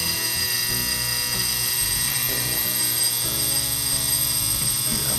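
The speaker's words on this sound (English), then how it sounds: "there's the alarm" A Telechron 711 electric alarm clock, under repair and plugged in, sounds its alarm as a loud, continuous buzzing drone with a steady tone, close and unbroken for several seconds.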